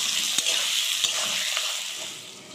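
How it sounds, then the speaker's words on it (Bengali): Boiled potatoes are stirred into onions frying in oil in a pan, giving a steady close sizzle with a few sharp scrapes of the spoon against the metal. "আলুটাকে নাড়িয়ে নিই।"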